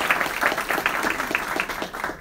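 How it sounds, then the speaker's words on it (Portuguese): Audience at a Brazilian health and biohacking panel event clapping for a doctor being introduced, a brief moderate round of applause from a room of people with a voice faintly over it. "Salve de palmas para ela também"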